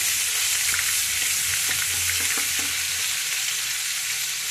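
Green chillies and masala fry in a pan for an egg and tomato curry, a loud close sizzle with a few stirring knocks and no speech.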